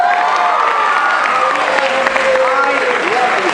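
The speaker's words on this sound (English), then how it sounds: "By round of applause." A high school audience applauds and cheers, with dense clapping mixed with shouts and whoops from young voices, loud and close throughout.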